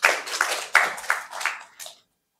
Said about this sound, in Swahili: naomba tumpige makofi